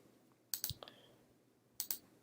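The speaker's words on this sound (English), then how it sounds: "I apologize if my mouse clicks are rather annoying." Computer mouse clicks at a desk while working in Logisim, two quick sharp clusters of several clicks each, crisp and close against a quiet background with no talking.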